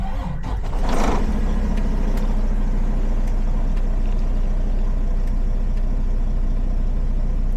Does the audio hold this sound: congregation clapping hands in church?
no